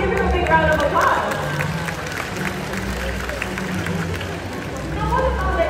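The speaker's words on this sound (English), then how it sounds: "Let's give him a big round of applause." A crowd at an outdoor bird show claps in applause for a performing bird, a sustained spread of clapping with chatter mixed in.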